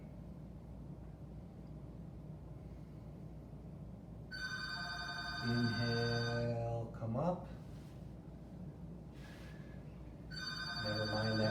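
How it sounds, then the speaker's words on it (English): A telephone rings with repeated trilling bursts of electronic tone, moderately loud, while a calm voice gives spoken instructions between and over the rings. "Never mind that ringing telephone."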